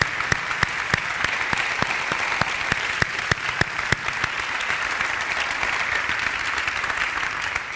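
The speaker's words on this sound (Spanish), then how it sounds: "Y un aplauso para ellos" An audience at a Galician basketball federation event gives a sustained round of applause, dense and steady, with crisp individual claps popping out over an even roar for several seconds.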